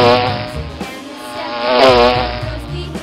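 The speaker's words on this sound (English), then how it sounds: "Bee." A bee buzzes loudly and close in a rich, harmonic drone that dips and swells in pitch over a few seconds, heard alone.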